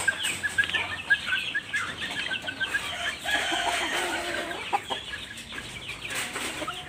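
Ko Shamo chickens, a tiny Shamo breed, cluck and chatter continuously at close range, with busy overlapping calls and a few louder squawks from a small flock.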